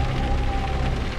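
Rain falls at night in a steady, dense hiss of drops on surfaces, loud and continuous throughout the short stretch, with no voices.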